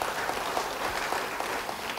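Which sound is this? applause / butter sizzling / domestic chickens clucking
applause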